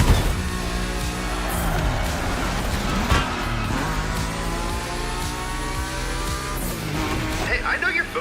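A Nismo race car roars down a straight in a racing video game, its engine revving hard with brief tire squeals, loud and continuous throughout.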